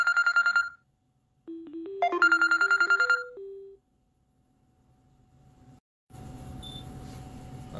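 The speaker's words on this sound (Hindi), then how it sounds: "ये बीच में फोन आ रहा है" A phone ringtone for an incoming call plays two bursts of bright, repeating electronic tones, then falls quiet before a noisy stretch of background sound takes over.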